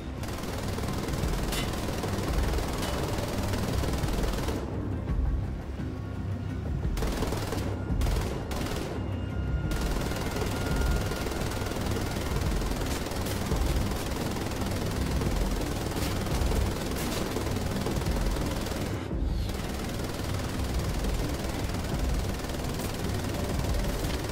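Dense, continuous gunfire fills a firefight in Wolfenstein: The Old Blood, with rapid automatic bursts and heavy shots layered over one another for over twenty seconds, loud and relentless, with only brief gaps.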